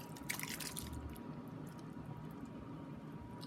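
Canned petite diced tomatoes from a large 28-ounce can pour into a cooking pot for beef chunk chili, giving a continuous wet, squishy glugging and dripping that is loudest early on and runs steadily throughout with no talk.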